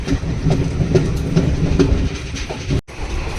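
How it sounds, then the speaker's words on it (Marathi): A train pulls out of Chiplun station, its carriages rolling with a steady low rumble and repeated clickety-clack of wheels on rail joints. The sound is close and continuous, with a brief dropout near the end. "आणि ट्रेन आता चिपळूणवरून पुढे निघाली आहे"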